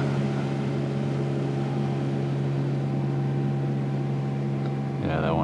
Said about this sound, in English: I suppose the boat noise probably doesn't help.